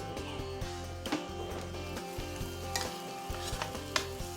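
Corn and softened onions cook in a pan with steady sizzling and frequent stirring scrapes, close and continuous under a faint humming background, with no voices.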